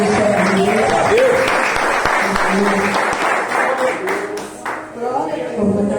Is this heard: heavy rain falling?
no